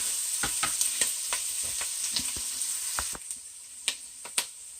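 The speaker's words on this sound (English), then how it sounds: "And we're just going to keep on sauteing those." Kale greens sauteing in a pan over medium heat give a steady hiss of sizzling, broken by repeated sharp stirring clicks and scrapes that grow sparser and more distinct toward the end.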